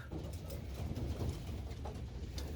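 Soft, low cooing of pigeons, steady and close, over a faint ambient background with no talking.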